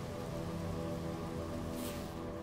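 Rain in the video game No Man's Sky, a steady dense hiss of falling rain on surfaces, continuous and even with no voices over it.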